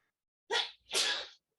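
Two quick sneezes, close and fairly loud, the second slightly longer, then silence.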